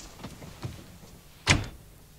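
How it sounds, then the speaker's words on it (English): An indoor door is pulled shut at night, giving a single soft thunk near the end after a few faint earlier knocks, fairly quiet with no talk. "Oh, close the door."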